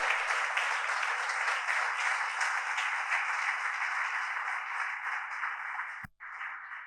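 A church congregation breaks into sustained applause, a dense, even wash of many hands clapping that runs for several seconds, then cuts off abruptly before resuming more softly.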